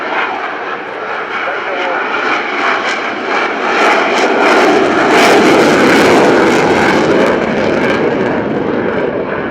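A fly-by-wire jet fighter flies at high alpha during a turn at the RIAT 2018 airshow at Fairford. A loud, broad engine roar swells and peaks, while a commentator talks over it.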